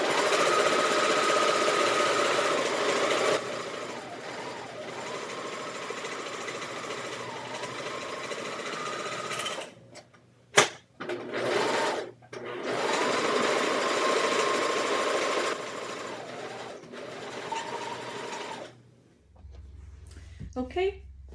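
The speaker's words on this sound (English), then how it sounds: "I'm going to take the cuffs and I'm going to go ahead and sew this seam down both" A sewing machine sews the cuff seams of a Rockford Raglan in long, steady runs that stop briefly and then start again. A person talks between the stitching bursts, and a few clicks and handling noises fall in the pauses.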